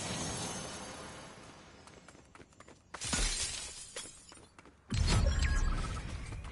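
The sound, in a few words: glass shattering in Fortnite video game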